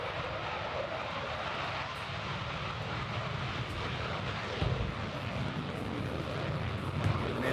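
Military aircraft departing at night during a live military show produce a broad, sustained jet-like roar that holds loud and steady from a moderate distance, with no speech over it.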